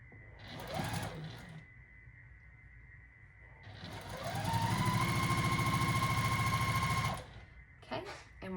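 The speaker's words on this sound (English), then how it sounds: "right sides together, and I'm going to sew mine kind of that way" Sewing machine stitching quilt block fabric pieces placed right sides together, a brief whirring burst near the start, then a steady, loud run of rapid stitching lasting a few seconds before it stops.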